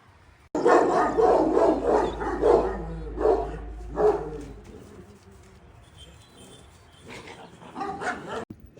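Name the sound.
Kangal dogs barking at a dog farm in Sivas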